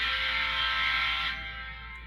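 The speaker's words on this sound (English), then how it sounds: "Here's the horn." A GP30/GP38 diesel locomotive horn on the Virgin River Railroad line 5669 sounds a loud, sustained chord blast for over a second, then cuts off and leaves a faint fading tail.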